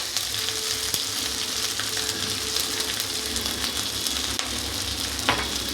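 Spice paste of ground chilli, ginger and turmeric frying in a pan for a pumpkin chhokka: a dense, continuous close sizzle with faint scrapes from stirring, steady throughout and no talking.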